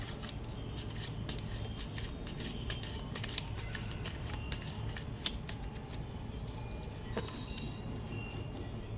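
Tarot cards being shuffled and drawn from the deck, heard as quick, close, repeated riffling and flicking sounds in an otherwise quiet room.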